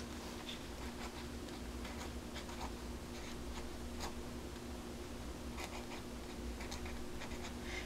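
A 1 millimeter paint pen nib scratching across gray paper, with faint, quiet ticks and light strokes over a steady low background hum.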